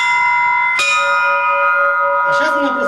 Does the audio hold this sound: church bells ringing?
yes